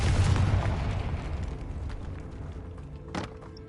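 Confringo spell explosion in the Hogwarts Legacy video game, a loud burst at the start that decays into a fading rumble, with a brief sharp crackle near the end.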